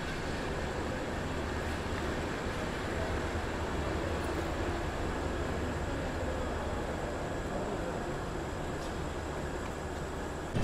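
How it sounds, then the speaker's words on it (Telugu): Sabari Express running with new LHB coaches pulls away from Singarayakonda station, a steady, loud rushing rumble of wheels and carriage noise held at an even level throughout, with no voices. "మన ట్రైన్ వచ్చేసి సింగరాయకొండ నుంచి అయితే బయలుదేరిపోయింది"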